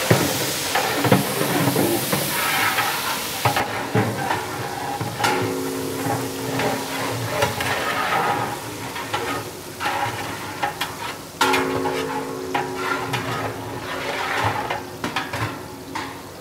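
Half a kilo of onions frying over high heat in a large pot for Ramadan nombu kanji makes a broad hiss and sizzle, with scattered scraping and clanking from stirring.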